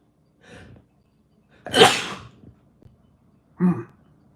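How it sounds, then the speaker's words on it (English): A single close, loud human sneeze with a short intake before it, followed by a quieter breathy exhale, otherwise near silence. "Oh, gotta sneeze."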